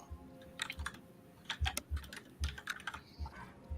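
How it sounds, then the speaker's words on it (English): Tarot cards are shuffled and then dealt out onto a surface, making a string of crisp, close clicks and soft slaps in an uneven rhythm, with no voices. "She starts shuffling the cards and then laying them out."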